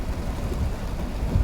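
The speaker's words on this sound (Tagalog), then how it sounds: "Tapos ngayong lakas ng ulan," Heavy rain pouring down during flooding, a steady dense broadband wash of noise with no distinct drops, moderately loud and unbroken throughout with no voices.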